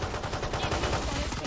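Rapid gunfire in a shooting video game, a dense, loud, continuous stream of shots with barely any gaps.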